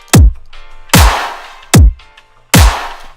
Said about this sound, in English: I make a rhythm clap, which basically consists of an actual clap and a snare.